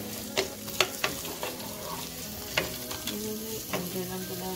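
Leek and chili frying in a pan for a Fijian-Indian duck curry, a steady sizzle broken by several sharp scraping stirs, close and moderately loud with no talking.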